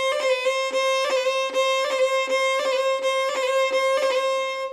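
Irish fiddle playing a repeated second finger roll ornament, quick bowed note clusters recurring in a steady rhythm, close and clear with no voices.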